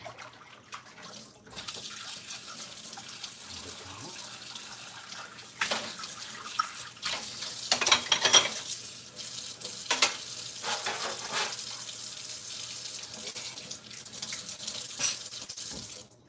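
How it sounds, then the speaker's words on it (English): A bowl being washed under a running kitchen tap, broadband water rush with clinks and splashes of handling over about sixteen seconds, close and steady with louder bursts. "Wash this bowl."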